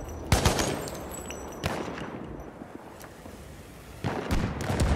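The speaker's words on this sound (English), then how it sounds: "Machine gun, hostile." Bursts of hostile machine gun fire in a video game, loud sharp volleys at the start, near the middle and again toward the end, with rattling echo and distant shots in between.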